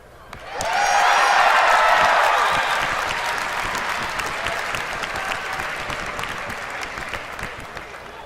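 A BlizzCon convention audience bursts into loud cheering and applause, swelling quickly to a roaring peak and then settling into sustained clapping that continues steadily to the end.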